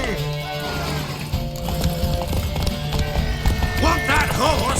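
Rapid hoof clip-clop of a horse running in a race in The Witcher 3: Wild Hunt, loud and near, with voices shouting over it and a busy rattling background.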